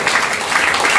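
In a Pentecostal church, the congregation claps hard in a thick, sustained burst of applause with no pauses, close and loud throughout.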